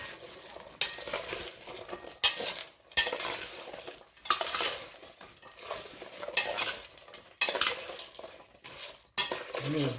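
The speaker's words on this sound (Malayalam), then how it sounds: "നന്നായി ഒന്ന് മിക്സ് ചെയ്ത് കൊടുക്കണം" Salted mango pickle mixture with vinegar and green chillies is stirred vigorously in a bowl, producing close, repeated wet scraping and clinking strokes in bursts separated by short pauses.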